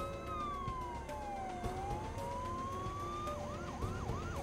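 A deputy sheriff's police car siren wails in long rising and falling sweeps, then switches to a quicker yelp, heard at moderate distance over faint road noise in a dramatized roadside scene.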